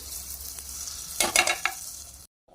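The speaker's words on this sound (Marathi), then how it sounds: "आपल्या भाजीवरती छान असा तडका झालेला आहे तयार, तो घालून घेऊयात" A hot tadka poured over chole curry: a quiet hiss builds into a short, sharp burst of sizzling crackles, then a couple of smaller spits before it cuts off abruptly.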